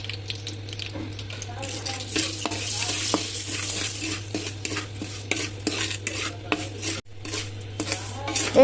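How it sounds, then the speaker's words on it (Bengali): Semolina (suji) being dry-fried in a pan for halwa, with a steady close sizzle and repeated scraping and stirring of a utensil against the pan throughout. "সেটার জন্য সুজি ভেজে নিচ্ছি।"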